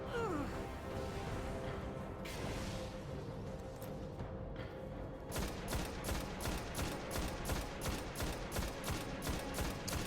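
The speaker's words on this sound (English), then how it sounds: "Here's a perfect example of me dodging more of the shots." Gunfire in the Destiny video game, a dense, steady stream of rapid shots from about the halfway point, preceded by louder game combat noise and blasts.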